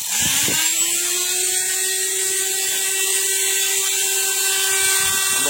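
A Total die grinder runs at high speed while grinding metal, giving a steady, loud, continuous whine with a sustained tone from start to finish and no speech.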